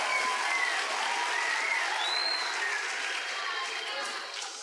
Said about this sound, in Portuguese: Palmas, gente, pra equipe Smart!